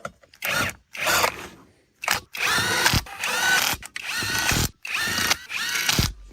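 A ratchet or power driver tightens bolts on a Norwood LM30 sawmill assembly in several close, loud bursts of whirring and clicking, separated by short pauses, with no talking.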